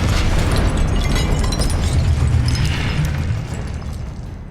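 Expelliarmus spell cast in the video game Hogwarts Legacy, a loud, sustained rumbling magical blast with a crackling burst that fades toward the end.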